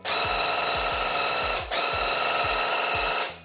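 A loud, steady mechanical whine with rhythmic pulsing thumps from a Graco QuickShot battery-powered airless paint sprayer set on 7, running continuously, briefly dipping midway, then resuming before cutting off.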